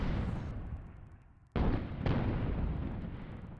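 Heavy ship cannon fire in Guns of Icarus Online: a long rumbling roar of blasts, with two sharp booming impacts landing close together, loud and without talk.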